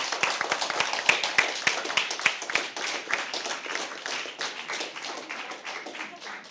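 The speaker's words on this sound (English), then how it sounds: "So a round of applause for all our debaters." A small audience at a debate event claps for the debaters, with distinct individual hand claps at first that blur into a thinner, fading patter.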